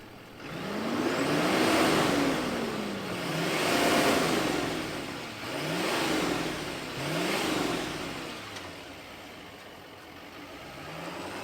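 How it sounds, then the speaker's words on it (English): A 2024 Chevrolet Silverado 2500 HD diesel pickup engine rumbles and revs up and down repeatedly, rising and falling in pitch several times, loud and close with no talking. "let's fire this up and hear if it makes all those great diesel sounds"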